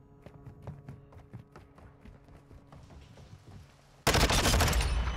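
Rapid gunfire in a first-person shooter video game, a run of sharp evenly spaced shots at a steady clip for several seconds, then a sudden loud burst of dense blasting noise near the end.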